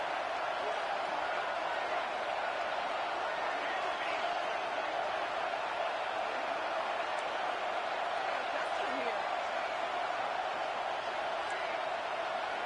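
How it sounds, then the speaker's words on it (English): A packed football stadium crowd at a Clemson versus Auburn game roars steadily as the defense takes the field, a sustained, even wall of distant crowd noise lasting the whole stretch. "Listen to this crowd just shaking the girders of this place, trying to help their defense."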